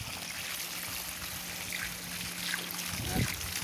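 Water flows steadily from the outlet of a solar-powered pump run from a 280-watt, 24-volt panel, a continuous trickling gush with a faint steady hum underneath and a brief louder splash near the end.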